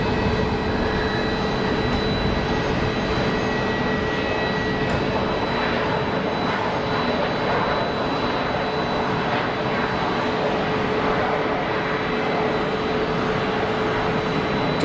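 A CRJ 900 regional jet landing at Geneva Airport with thrust reversers deployed, a steady broad roar of jet engine noise that persists loudly throughout, without any voices.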